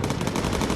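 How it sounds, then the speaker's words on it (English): Rapid machine gun fire from the bomber aircraft game Bomber Crew, a dense, continuous rattling burst that fills the moment loudly. "Running low on ammo, aye? Quickly, Lucas, go back and reload"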